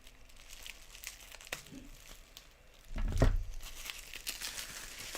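A Disney pin package gets snipped open, with soft plastic crinkling and rustling building to a louder crackle partway through, close and handled by hand.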